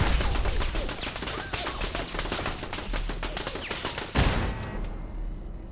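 An automated turret in Fallout 4 fires at the player, loud rapid machine-gun bursts hammering nonstop before cutting off abruptly near the end, leaving only a faint ringing tail.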